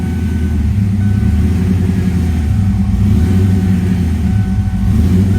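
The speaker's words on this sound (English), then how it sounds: "I got a hunting idle till it warms up just a little bit, then it'll level out" A cold 1995 Ford Mustang Foxbody engine idles with a hunting, slightly surging rhythm, steady and loud at close range with no talk over it.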